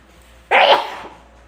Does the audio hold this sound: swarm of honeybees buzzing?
no